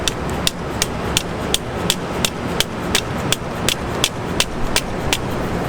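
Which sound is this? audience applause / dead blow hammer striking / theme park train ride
dead blow hammer striking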